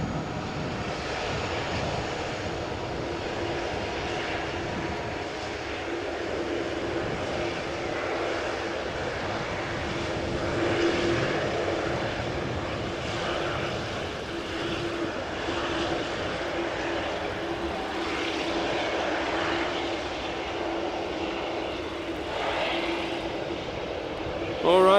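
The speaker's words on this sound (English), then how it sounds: "Here we have KLM Flight 644, the 787-10 Dreamliner that has just returned from New York JFK." A KLM Boeing 787-10 Dreamliner arriving from New York JFK at Amsterdam Schiphol Airport gives a continuous, fairly loud aircraft engine roar that stays steady the whole time, with talk over it.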